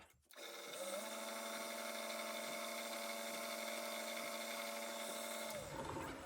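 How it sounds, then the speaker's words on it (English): A drill spins up and runs steadily as it bores a small hole for a bolt through metal. The motor whines with a steady tonal hum for about five seconds, then winds down to a stop. "What I'm going to do is drill all 3 of these holes from the 54 to the 52"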